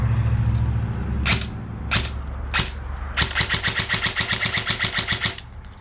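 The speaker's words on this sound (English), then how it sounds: "we're going to shoot some shots on semi and then switch to full on" VFC Avalon airsoft rifle powered by an 11.1 V lipo with no electronic trigger, firing three spaced single shots and then a rapid full-auto string of about fifteen shots, close and loud.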